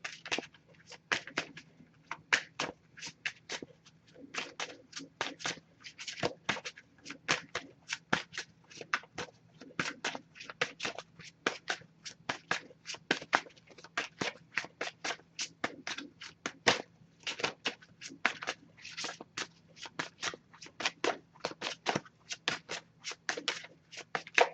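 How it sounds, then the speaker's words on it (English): Someone shuffles a Messages of Love oracle card deck by hand: a steady, faint patter of quick card flicks and taps goes on without a break, close by and with no voice over it. "Just going to pull a single card from this deck"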